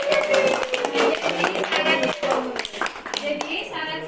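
Classroom applause for a student during a micro-teaching lesson on congregational prayer, a brisk burst of many hands clapping that fills the room for several seconds, with a voice talking underneath.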